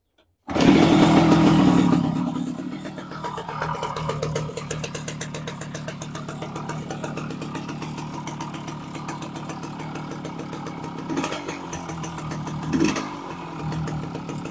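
Small motorcycle engine in worn condition idling steadily nearby after a loud initial rev, its even putter continuing with a couple of brief throttle blips.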